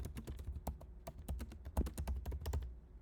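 A computer keyboard is being typed on close by to enter a song title into ProPresenter presentation software. Quick, irregular clicking keystrokes run throughout with short pauses and no talking.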